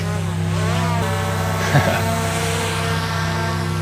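A camera drone lifts off at a riverside park and flies, its steady, close, buzzing whine sliding upward in pitch and then holding level throughout.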